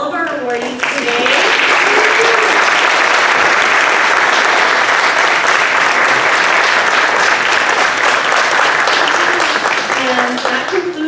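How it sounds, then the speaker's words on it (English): At a community summit awards ceremony, the audience gives a loud, sustained round of applause for the awardees, with dense clapping filling the room and some voices and cheers under it at the start and end. "Let's give one more round of applause for all of our awardees today."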